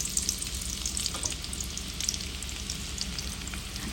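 Garlic sizzles steadily in hot oil in a pan, a dense continuous frying hiss with small crackles throughout, close and fairly quiet, with no voices.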